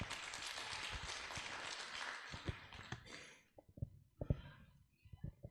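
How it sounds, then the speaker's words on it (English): Dense clapping from a conference audience at the FSM Women's Conference in Chuuk State, steady for about three seconds, then fading into a few scattered, separate claps. "Let's give a round of applause to all the participants in"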